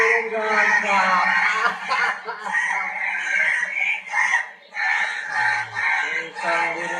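A ringtone of crow calls repeats raspy caws in short bursts, one after another at near-even spacing, loud and close, with a faint voice in the background.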